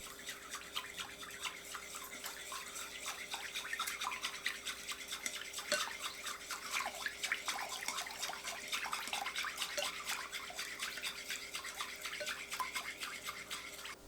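Quiet, rapid scraping and clinking of a utensil stirring sauce of lime juice, fish sauce, water and sugar in a bowl, steady and continuous with a faint hum underneath.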